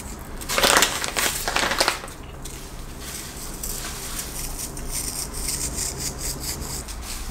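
Fine model-railroad ballast sprinkled by fingers onto sand for desert scenery. It makes a gritty rustling patter that is loudest in a short burst near the start, then settles into a softer, steady granular hiss.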